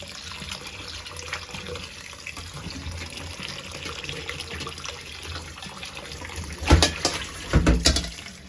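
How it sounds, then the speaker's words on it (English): Cold tap water runs steadily over somen noodles being rinsed by hand in a kitchen sink, a continuous close splashing stream with a couple of louder splashes near the end; no one talks. "rinse the noodle under cold running water and gently rub them with your hand to remove excess starch and surface oil."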